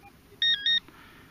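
Garrett waterproof metal-detector pinpointer giving two short, clear electronic beeps in quick succession while its button is held, close and alone against a quiet background.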